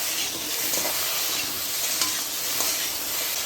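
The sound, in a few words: taro being stir-fried in pan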